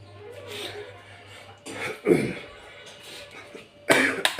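A few sharp coughing bursts, close by, scattered across a few seconds with low background noise between them.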